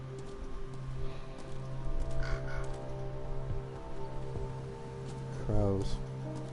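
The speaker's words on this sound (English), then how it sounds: "Crows. Interesting they put them in the game." Crows cawing in the Call of Cthulhu video game: a short, harsh burst of caws near the end rises over a steady low ambient hum and faint rain-like patter.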